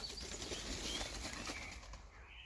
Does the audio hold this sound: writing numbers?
no